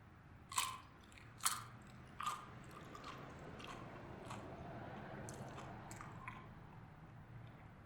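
Crunchy pickles are bitten and chewed up close, with three sharp crunches early on followed by softer, wet, steady chewing that continues quietly to the end.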